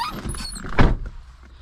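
Car door of a 2010 Volkswagen Jetta SEL, with some brief higher squeaky sounds followed by a single close, solid thunk, then quiet.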